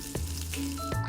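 Garlic, curry leaves and dried red chillies frying in hot oil for an okra fry, a steady close sizzle throughout with a couple of brief bursts as ingredients hit the pan.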